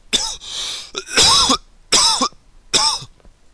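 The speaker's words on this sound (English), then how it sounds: "Sorry, I had to cough." A person coughs close to the microphone, four loud harsh bursts in a rough sequence, the first two bunched together and the last two spaced about a second apart.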